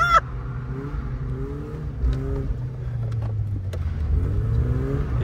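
BMW E36 on a race track, its engine droning steadily and close throughout, with a brief sharp burst at the start and faint clicks and squeaks over the running motor.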